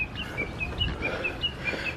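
Bird on a mountain trail on Mount Ikoma in Japan repeating a short, thin high call about every quarter second, moderately distant, over soft wind and footstep-like rustle.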